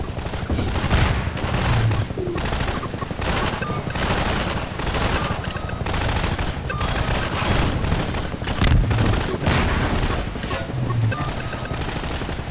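Sustained gunfire and explosions from the video game Half-Life 2 Episode 2, dense rapid shots with periodic heavier booms, loud and continuous throughout.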